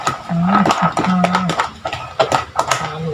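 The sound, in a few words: stirring tuna with carrots and potatoes in a pan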